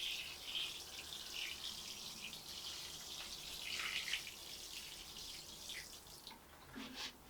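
Water from a watering can pours steadily onto plant pots in a garden, a soft continuous splashing and trickling that stays fairly quiet and even throughout with no talking.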